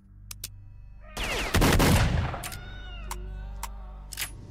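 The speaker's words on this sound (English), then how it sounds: "Is that a cat? Do I keep hearing a cat?" A cat meows repeatedly in a video game, S.T.A.L.K.E.R.: Shadow of Chernobyl, with several drawn-out, wavering cries over a steady low game hum, punctuated by loud bursts and sharp clicks.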